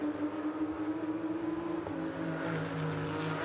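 Porsche Sprint Challenge race cars at Brands Hatch circuit: engines droning steadily at a distance, one note shifting with a gear change partway through, fairly faint and without talk.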